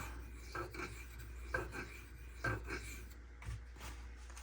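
A Spyderco Sage 5 knife blade is drawn over a silicon carbide sharpening steel, giving soft, quiet rasping strokes about once a second, close up and alone.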